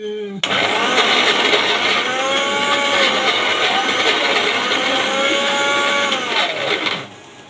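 A mixer grinder whirs loudly and steadily while grinding green peas into a paste, the motor pitch rising and falling in slow swells before it winds down and stops at the end.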